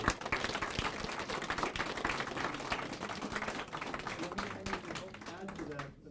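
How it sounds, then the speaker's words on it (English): A room of high school students bursts into applause after a video conference session, dense, continuous clapping heard at moderate distance that fades toward the end, with some speech mixed in. "Give yourself a round of applause"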